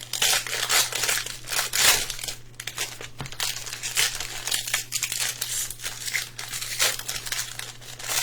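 Donruss football trading card blaster box packs are ripped open by hand, giving loud, close crinkling and tearing of foil wrappers in repeated bursts over several seconds.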